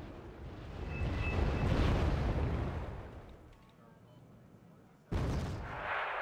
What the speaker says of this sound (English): some mortars here being used to stun this Leopard 2A4